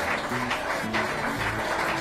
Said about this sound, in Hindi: ये देखकर वहाँ खड़े लोगों ने ताली बजाई।